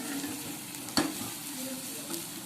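Drumstick curry is stirred in a pan, giving a soft scrape against the pan and one sharper knock over a low, constant sizzle.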